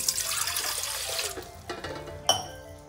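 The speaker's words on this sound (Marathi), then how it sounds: "आता आपण यात टाकणार 1 ग्लास पाणी." A glass of water pours into a salted mixture in an idli pot, a close, rushing splash for about a second and a half before fading into quieter trickles and a small clink.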